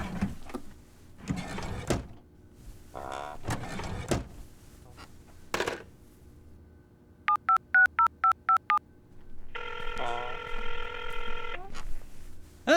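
Telephone keypad tones ring out as a fast run of about six evenly spaced dialing beeps, followed by a sustained dial-type tone, amid scattered thumps and rustling handling noises nearby.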